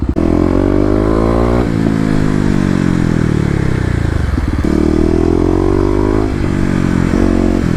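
A Kawasaki KLX250 dual-sport motorcycle with EJK tuning accelerates hard on dry pavement, its single-cylinder engine loud and close, revving up and easing off in repeated surges with a steady throaty drone.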